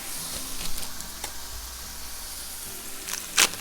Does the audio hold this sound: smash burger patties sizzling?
yes